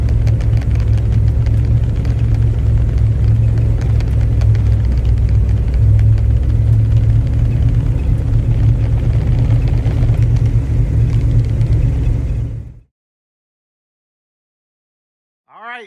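A 1966 SS Chevelle Convertible cruises on a test drive, its steady low engine rumble and road noise loud and continuous for about twelve seconds before cutting to silence.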